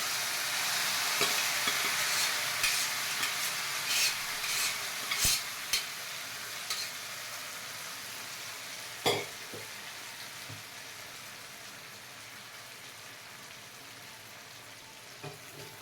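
Boiled tapioca for kappa puzhukku stirred in a pan, a steady scraping and sizzling bed with scattered soft clinks and knocks of a spoon, fairly close and alone without talk.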